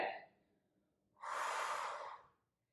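A single strong breath during a no-equipment body sculpt workout, a short faint exhale followed by a loud, airy inhale lasting about a second, close and alone with no talking.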